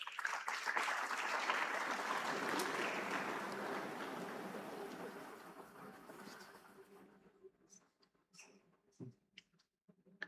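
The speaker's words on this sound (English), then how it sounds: "A round of applause." Loud audience applause at a business summit welcomes a panelist onto the stage, dense clapping that gradually fades over several seconds, leaving a few scattered claps and faint room noise.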